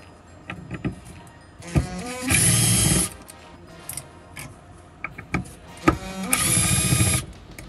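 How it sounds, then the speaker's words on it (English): A small electric screwdriver backs Torx screws out of a Bosch MED17.5 ECU from a VW Golf MK6 2.0 TSI, with two sustained whirring bursts separated by clicks and light metallic handling taps, close and fairly quiet. "So take the screws off."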